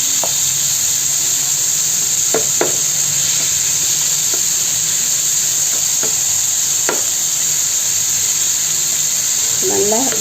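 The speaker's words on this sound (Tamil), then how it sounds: "நல்லா வதங்கிட்டுருக்கு." Prawns sautéing in a pan for a prawn fry, a steady close sizzle and hiss running throughout, broken by a few sharp clinks of a stirring spoon, with a brief voice near the end.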